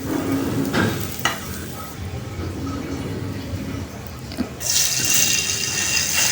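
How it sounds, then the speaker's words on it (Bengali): Potatoes sizzle in hot oil in a home kitchen pan, a steady close frying hiss with a few stirring clatters and a louder sizzling burst toward the end. "তারপর আমি কিছু আলু ভেজে নিব।"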